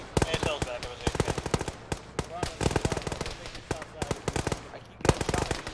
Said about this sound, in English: I keep getting shot at the base.